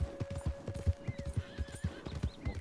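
A horse in the Red Dead Redemption 2 video game neighs while its hooves clop in a quick, steady rhythm, fairly near and clear, with a long whinny over the footfalls and no talking.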